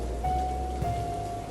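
Steady rain falls on a surface in a horror cartoon, a constant close patter with a faint tonal hum running beneath it.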